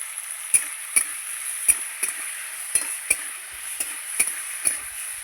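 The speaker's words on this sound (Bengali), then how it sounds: "সিমটা একটু ভেজে নেব দিয়ে দেবো লবণ দিয়ে দেবো একটু হলুদ" Green beans frying in a pan with salt and turmeric give a thin, steady sizzle, punctuated by about a dozen regular sharp knocks and scrapes of a stirring utensil, close and fairly loud.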